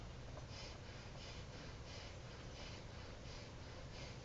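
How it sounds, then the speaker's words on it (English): Very gentle, even breathing in and out through a single nostril, quiet and soft with a slow repeated rhythm of roughly eight breaths, no voice. "So we'll breathe in and out through the same nostril"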